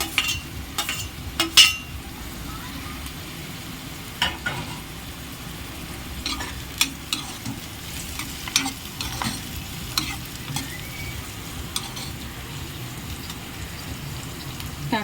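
Green chillies and bitter gourd frying in a pan, a steady close sizzle broken by sharp clacks and scrapes of a spoon stirring throughout, no talking.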